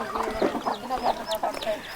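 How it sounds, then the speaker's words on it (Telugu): A chicken clucking close by in a tribal village home, a series of short, bright clucks spread across the moment with a little background noise. "చూడండి ఇది కోడి"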